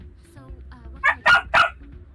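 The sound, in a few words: dogs barking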